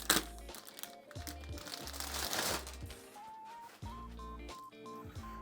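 Plastic wrap on a box crinkles and crackles as it is peeled off, a close, fairly soft rustle running in bursts over a steady tonal background.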